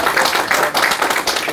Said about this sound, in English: big applause for our panelists